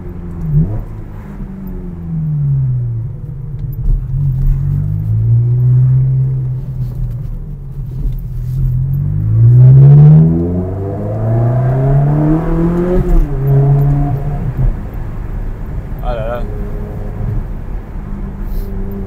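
A Ferrari 360 Modena engine revs up and down in long rising and falling sweeps, loud and close, with a metallic, singing tone throughout.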